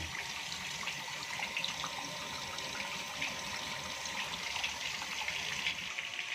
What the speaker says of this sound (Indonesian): Inilah salah satu yang namanya cara pengurasan.